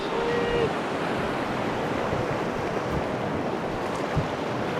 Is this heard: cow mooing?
no